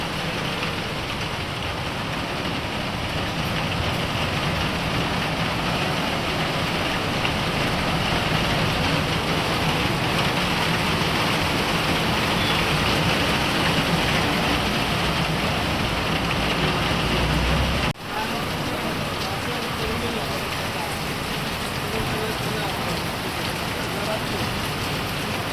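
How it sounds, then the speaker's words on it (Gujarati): Heavy rain pours down steadily and loudly, a dense continuous hiss on surfaces that holds for the whole stretch, with a brief dropout near the end and no talk over it. "જબરદસ્ત ચાલુ થઈ ગયો વરસાદ તો."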